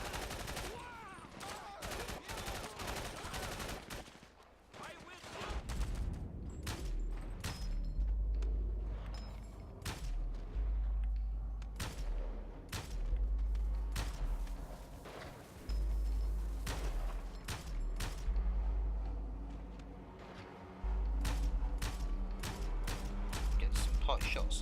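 Gunfire in the video game GTA V during a gang turf fight, with many sharp shots and rapid bursts scattered across the scene over a low rumbling background, loud and sustained.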